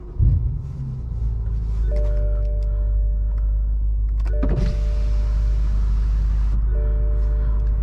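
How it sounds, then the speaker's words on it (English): A 2013 BMW M5 engine cranks and catches with a brief burst near the start, then settles into a steady low idle rumble with a whine over it, close by and without talk. "engine start."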